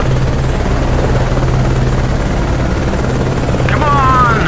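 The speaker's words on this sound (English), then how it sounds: "There's the helicopter!" A helicopter in the off-road racing game Baja: Edge of Control (Xbox 360) holds a steady, loud rotor drone with a low pulsing hum, and voices shout over it.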